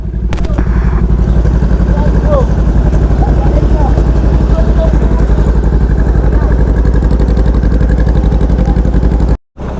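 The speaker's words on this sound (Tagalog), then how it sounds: "Mio gear lang malakas." A Yamaha Mio Gear 125cc motorcycle engine runs loud and close while stuck in flood water, a steady rough drone with rattling clatter that continues almost unbroken before a brief drop near the end.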